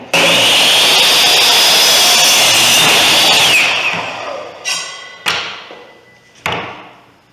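A power saw with an 18-inch fence cuts wooden stock for a target frame, a loud sustained whine that spins down, then several sharp knocks and thuds of pieces being handled.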